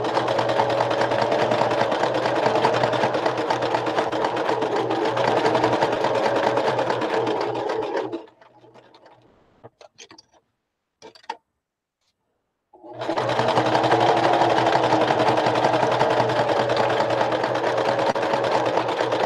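A sewing machine stitches fabric for a boho bag, running loud and continuous for several seconds, pausing into near silence with a few faint clicks, then resuming its steady whirring stitch up close.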